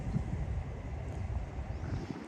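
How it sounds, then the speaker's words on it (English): Strong gusts buffet a flimsy camera mount outdoors during a live city news stream, producing a steady, loud low rumble of wind noise across the whole stretch with no speech. "It's super windy and this mount's like this mount's a little bit flimsy."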